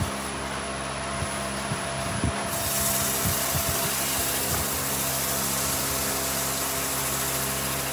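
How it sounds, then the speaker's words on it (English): A raised wooden bowl spinning on a lathe is burnished after sanding, giving a continuous loud rubbing friction hiss over a steady motor hum, with a few soft knocks early on. "Now we'll burnish."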